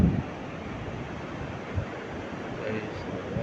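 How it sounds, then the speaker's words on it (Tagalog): Surf washes onto the beach at Buenavista, Gubat, Sorsogon as a steady broadband roar mixed with wind buffeting the microphone, continuous and fairly loud, with no distinct individual wave breaks. "So maalon"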